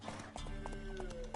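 A horse ridden in Witcher 3 clip-clops along in a quick rhythmic gait, hoofbeats close and even, with faint game ambience underneath.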